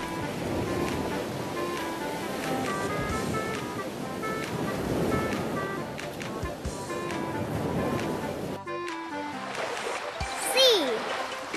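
Sea waves wash and surge in a continuous, fairly loud roar with splashes and wind noise, a lone voice talking faintly over the surf, before the sound changes near the end to a softer wash with a rising whistle-like tone.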